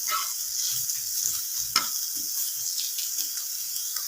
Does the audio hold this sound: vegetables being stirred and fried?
yes